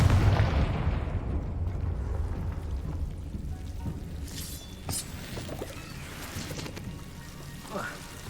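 Confringo fire spell in Hogwarts Legacy, a loud blast opening into a rumbling explosion that fades, with a couple of sharper magical cracks and chimes afterward and a voice speaking over it.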